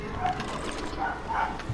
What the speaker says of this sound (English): Holy crap, my dog's being loud.